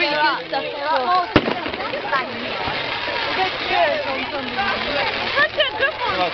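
A fireworks display building toward its finale, with a loud sharp bang early on followed by a continuous crackling, rumbling barrage amid background crowd chatter.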